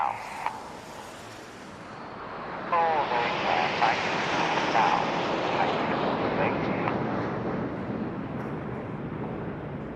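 A Red Arrows display jet sweeps past at an outdoor motorsport festival, a distant roar rising and then trailing off amid wind noise and crowd ambience.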